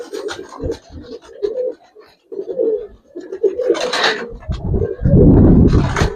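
Pigeons of Giribaz colouring breed in a loft coo in a run of low, repeated calls, with scratching and fluttering bursts and a louder rough flurry near the end.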